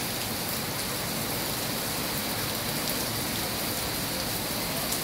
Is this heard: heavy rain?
yes